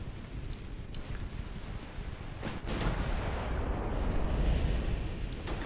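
Naval gunfire and shell hits in the warship game Ultimate Admiral Dreadnoughts: distant booms and rumbling impacts over a steady noisy wash, swelling louder in the second half, no voices.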